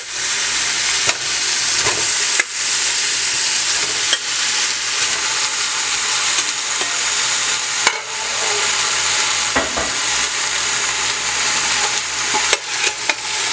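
Oxtail meat frying in a hot pot on a stovetop for a Bajan stew, a steady loud sizzle throughout with occasional stirring scrapes and clinks breaking through.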